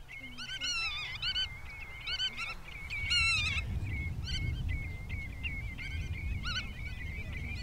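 Geese and other birds honk and call repeatedly in an open Frisian meadow, with a steady low rumble of wind or distant traffic underneath. No one speaks.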